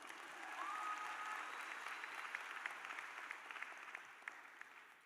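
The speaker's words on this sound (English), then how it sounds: "you can give yourself another round of applause" A crowd claps at a medical school commencement ceremony of the American University of Antigua. The sustained, fairly distant applause slowly thins out toward the end.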